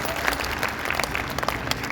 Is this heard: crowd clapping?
yes